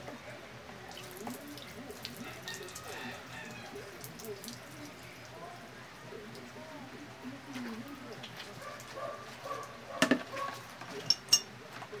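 Water poured into a manual hand pump (poso) while swapping an old Dragon pump for a new one, heard as soft splashing and trickling with a few sharper clanks near the end, under background talk.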